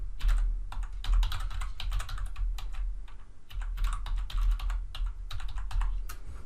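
Rapid keystrokes on a computer keyboard as Sophos Central login details are entered, a steady close-up clatter in uneven bursts with short pauses, no voices.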